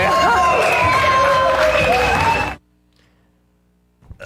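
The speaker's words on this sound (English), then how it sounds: "we have a massive round of applause for Tom" Crowd cheering and applauding loudly with shouts for about two and a half seconds, then cutting abruptly to near silence before a faint sound returns at the end.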